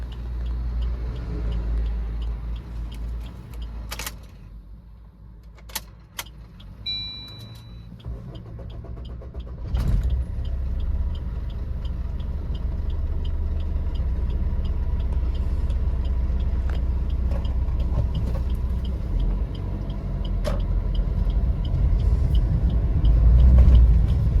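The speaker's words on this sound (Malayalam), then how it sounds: "വണ്ടി ഓടിക്കൊണ്ടിരിക്കുമ്പോൾ ഓട്ടോമാറ്റിക്കായി ഓഫ് ആവുകയാണ്" A Maruti Ertiga diesel engine rumbles at close range, drops away briefly early on, then runs on as a steady low drone that grows slightly louder toward the end.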